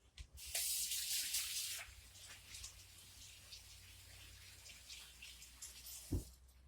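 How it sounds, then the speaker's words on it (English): Hands washed under a kitchen sink tap, a steady rush of running water for about a second and a half, then a softer splashing trickle, ending with a brief knock, close and quiet, no talking. "I'm going to wash my hands here real quick."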